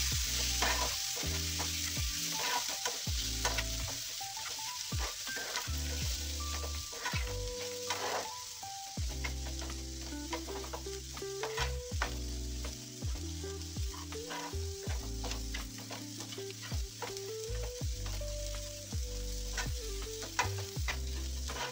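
Turmeric and coriander powder stirred and fried in a pan for a cheesy chicken brinjal dish, a steady sizzle with repeated scraping strokes of a spoon, close and continuous, over a bed of background music.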